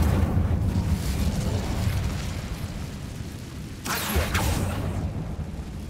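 The Incendio fire spell in the Hogwarts Legacy video game bursts into a loud, sustained fiery roar with a rumbling low end, then flares again with a sharp whooshing surge partway through.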